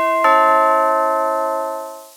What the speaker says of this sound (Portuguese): Fran tocou a campainha de novo.